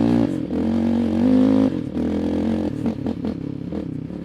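Honda TRX700XX ATV engine blipped with a touchy throttle: a close, throaty idle rises in quick revs, followed by a few short, sharp throttle stabs with some light clatter.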